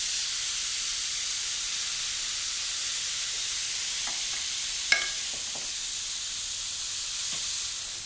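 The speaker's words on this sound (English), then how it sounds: "I'm going to sear off these pork chops" Pork chops searing in a hot pan, a loud, continuous high hiss of sizzling fat that stays steady throughout, broken by a few brief clinks and one sharp knock midway, with no one talking.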